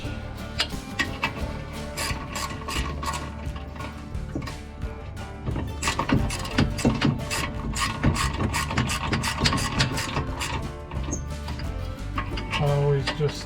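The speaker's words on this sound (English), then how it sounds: "Tighten the bolts up" Brake caliper bolts on a 2014 Scion xB being tightened with a ratchet during a rear brake and rotor job, giving steady mechanical clicking and metallic clatter close to the mic throughout, with no talk.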